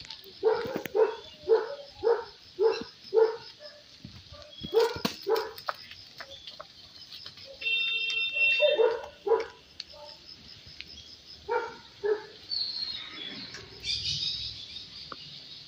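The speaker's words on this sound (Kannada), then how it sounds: "ನಮ್ಮ ಡೆವಿಲ್ನ ಹೊರಗಡೆ ಆಟ ಆಡೋಕ್ಕೆ ಕರ್ಕೊಬಂದೆ." A dog outdoors after rain, barking in repeated short bursts of three or four with brief pauses between them, fairly close, with bird calls scattered in the background.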